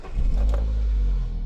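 A used Saab car engine starts, a close low rumble that rises quickly to a brief rev and then settles into a steady idle.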